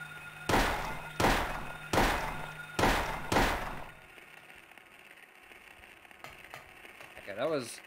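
Five heavy, evenly spaced gunshots from a Silent Hill video game, each loud and sharp with a short decay, followed by a quiet, low ambient hum and a faint warbling sound near the end.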